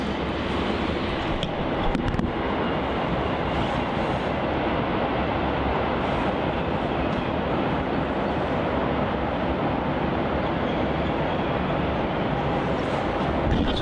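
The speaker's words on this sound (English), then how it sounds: "Yet another Virgin 737 departure is going to be Virgin Flight 309 departing off to Brisbane off" A Virgin Australia Boeing 737 takes off from runway 34 at Melbourne Airport, its jet engines producing a continuous broad roar that holds steady and loud from start to finish, with faint wind buffeting.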